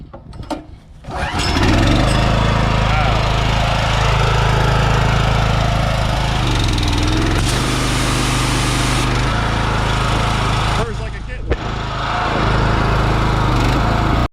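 A Honda GX390 engine with a new ignition coil starts up and runs steadily and loudly, a sustained close-up drone with a brief dip in the middle and no talking.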